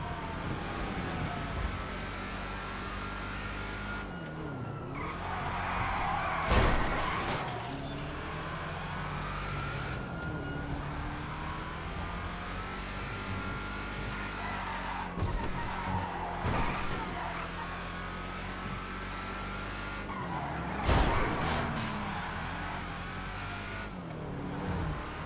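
A car in GTA V Online drives hard around Elysian Island, its engine droning steadily with revving swells and several sharp tyre skids breaking through, loud and continuous with no one speaking.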